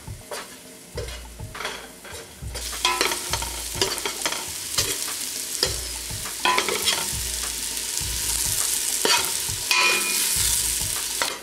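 Sausage pieces with spices sizzling in a pan while a utensil stirs them gently, giving repeated close scrapes and knocks over a steady frying hiss.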